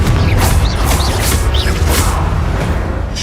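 Fiery Confringo spell blasts in Hogwarts Legacy on hard difficulty, a dense roar of booming explosions and whooshing bursts with bright crackling flares, loud and continuous throughout the clip.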